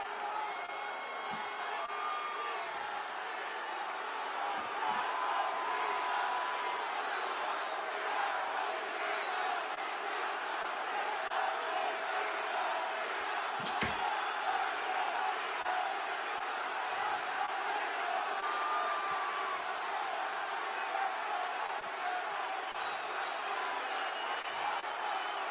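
Wrestling arena crowd in Phoenix during a live WWE Raw broadcast, a dense steady roar of many voices with conflicting chants carrying on throughout, fairly distant and even in level.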